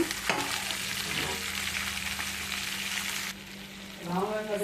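Cut okra hits tempering oil with a close, vigorous sizzle that eases into a steadier hiss, and a few stirring clinks and a low hum come through.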